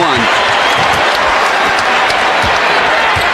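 Dense, steady roar of an arena crowd applauding and cheering for Kobe Bryant's 81-point game, sustained and loud throughout with scattered thumps and sharper claps standing out.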